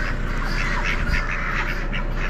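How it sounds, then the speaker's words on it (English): Drakes, likely Pekin or Pekin crosses, quack over and over in a poultry auction barn: a dense, steady chorus of overlapping calls set against a constant crowd and hall din. "Sounds like a bunch of drakes."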